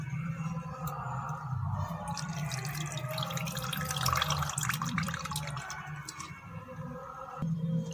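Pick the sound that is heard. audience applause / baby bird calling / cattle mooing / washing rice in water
washing rice in water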